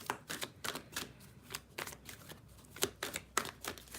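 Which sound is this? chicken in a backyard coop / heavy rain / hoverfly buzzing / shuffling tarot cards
shuffling tarot cards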